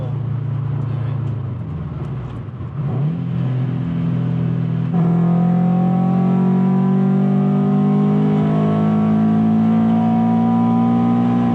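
A supercharged Subaru BRZ on new tires pulls hard through the gears, its engine note climbing steadily and loud from inside the cabin, with a shift partway through before the revs rise again.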